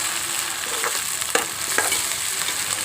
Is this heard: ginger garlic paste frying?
yes